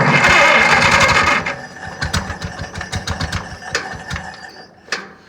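An Oliver 60 tractor engine with a freshly repaired carburetor, set to a very low idle, starting loud and busy before settling into an uneven, lumpy putter with irregular knocks, close up and without talk.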